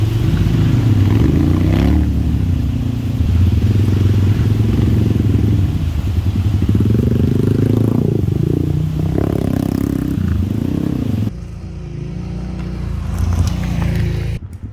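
A motorcycle rides a snowy mountain road to Tusheti, its engine droning loudly and steadily up close. Rough clattering and scraping from the surface run under the engine, and the sound drops briefly near the end.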